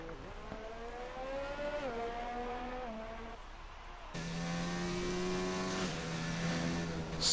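A race car on an out lap in a sim racing league at the Austrian GP, warming soft Pirelli tires; a steady, fairly distant engine drone with audible gear changes and pitch shifts, moderately loud throughout.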